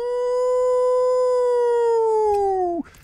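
A dog companion in the video game Diablo IV lets out one long, loud, clear howl that holds a steady pitch, then drops sharply and cuts off near the end.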